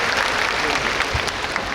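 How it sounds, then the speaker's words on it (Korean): Audience applause at an outdoor open-stage talk for a film, a steady dense roar of clapping from a large crowd, continuous and even throughout. "박수 한 번만 부탁드릴게요."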